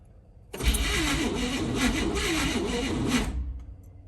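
A 427 V8 in a four-speed Chevrolet Caprice, left sitting since 1988, cranks and catches, settling into a loud, steady rough idle for about three seconds before cutting off; no talking over it.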